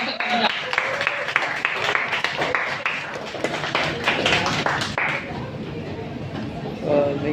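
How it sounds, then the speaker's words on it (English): Scattered audience applause greeting a speaker at an evening talk in Kuala Lumpur, uneven clapping that thins out as chatter and nearby voices take over. "Please give a round of applause to Dr. Khadijah."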